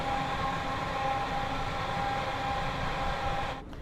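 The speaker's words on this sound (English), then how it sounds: "Well, this is electric train." An electric train from Train Sim World 2 runs on Scotland's Cathcart Circle line near Glasgow with a steady, fairly quiet rumble and a faint constant whine, fading slightly at the end with no talking.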